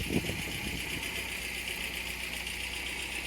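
A 1972 MG MGB GT after a recent restoration, its engine idling: a steady, even mechanical hum with a faint rhythmic patter, heard close and alone after a brief louder knock at the start.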